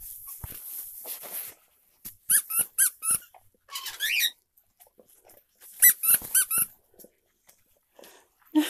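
A squeaky dog toy gets squeezed in short bursts, with clusters of sharp, loud squeaks separated by pauses, while a person speaks briefly nearby.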